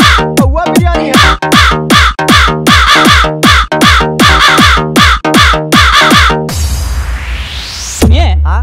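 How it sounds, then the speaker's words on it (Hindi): Loud, rapid run of harsh crow caws repeating in quick succession, followed by a burst of noisy electronic sweep from a DJ comedy song mix, with no talking. "अच्छा कौवे का आवाज आ रहा है भाई"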